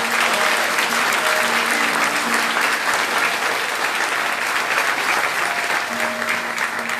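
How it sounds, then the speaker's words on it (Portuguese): A church congregation claps together in sustained, dense applause for about seven seconds, steady and loud throughout, with faint tonal hum or voice traces beneath the clapping. "Você pode dar uma salva de palmas para Jesus?"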